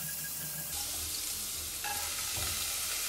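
Oil heating in a frying pan for an oriental-style red spaghetti with meat gives off a steady, close sizzle and crackle that swells a little louder partway through, with no talking.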